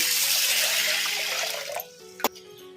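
Water pours steadily into a vessel of toor dal lentils being washed in a home kitchen, a continuous rushing splash that stops near the end, followed by a single clink.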